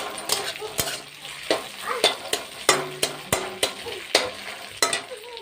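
Wild greens hitting a frying pan for a pork curry produce a hissing sizzle, punctuated by repeated sharp clacks of a utensil stirring against the pan at an uneven rhythm.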